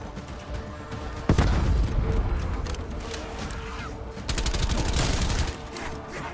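Video game gunfire in Die Machine, a steady stream of shots with two heavy bursts, one sudden and loud, another later, over a continuous rumbling backdrop, no talk.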